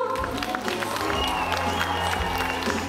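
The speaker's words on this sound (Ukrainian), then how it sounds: "Аплодисменти нашим учасницям." Audience applause for the contestants of the Miss Turiisk 2008 beauty pageant fills a hall with a steady, dense wash of clapping from a crowd, with some background music tones running underneath.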